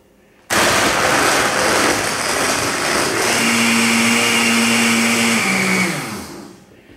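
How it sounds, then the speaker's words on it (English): A blender motor roars to life abruptly, churning a frozen mango drink loudly and steadily for several seconds before winding down and stopping. "And then we're going to put it on the blender."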